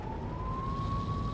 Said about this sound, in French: Activer la sirène, ça c'est une très bonne idée